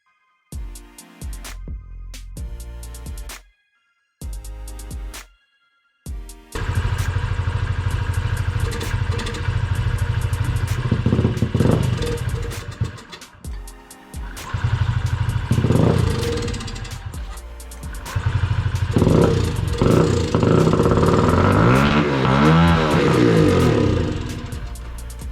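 Honda Ruckus scooter engine that will not hold an idle, cranking in short bursts before catching, then running loud and close with rough idling and rising revs.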